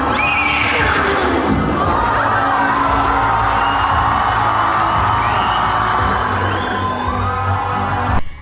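At a hobby horse competition, a crowd of people imitates horse neighs in a whinnying contest, with loud continuous overlapping whinnies and cheering filling the whole stretch.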